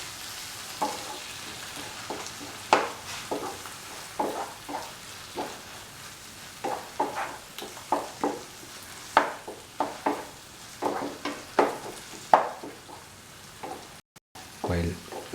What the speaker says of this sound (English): While sauteing, smash the tomatoes so that it becomes a fine mush